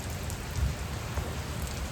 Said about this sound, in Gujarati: વરસાદ તો થોડો થોડો આવે ભાઈ.